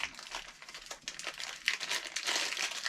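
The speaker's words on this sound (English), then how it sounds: "We'll unwrap them all." Plastic wrapping being peeled off and crinkled from parts of a mini keg home bar system, a steady close crackling and rustling with sharper bursts of crumpling throughout.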